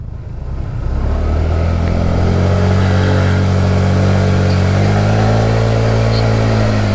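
A Honda Click scooter-style motorcycle labouring up a steep rural uphill on a dirt ride, its engine close and loud with a sustained droning whine that climbs and shifts pitch as it strains.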